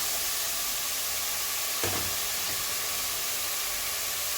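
Onion sizzles in a hot pan while crab pulav is being cooked: a dense, steady frying hiss, close and constant, with one brief clunk partway through.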